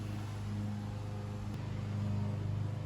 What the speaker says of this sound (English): You'll have to excuse the mower.